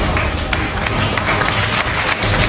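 A crowd claps and cheers in a dense, continuous burst of applause, with some voices mixed in.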